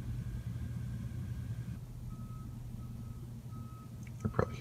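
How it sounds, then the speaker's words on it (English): A vehicle's reversing alarm beeps at a distance early in the morning, a repeated faint tone in a regular rhythm over a low engine rumble, with a few sharp knocks near the end. "Probably hearing that beeping sound."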